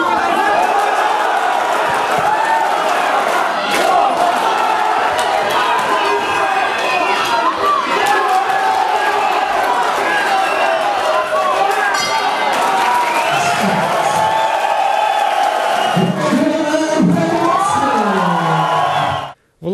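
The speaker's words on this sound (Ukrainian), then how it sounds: "Кожен влучний удар Володимира супроводжується аплодисментами глядачів." Spectators at a boxing match cheer and applaud in a large hall, a dense, continuous crowd roar with shouts and whoops throughout, ending with an abrupt cut.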